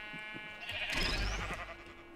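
Sheep bleating in Minecraft, one drawn-out bleat rising and swelling in the middle and then fading, heard over a background tone and faint rustle, fairly quiet, no voices.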